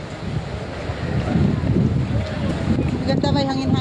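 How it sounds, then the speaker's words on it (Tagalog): Steady wind buffets the microphone by the sea, with a broad rushing roar and faint surf beneath, and brief voices murmuring in the background. "Ganda, may hangin-hangin dito."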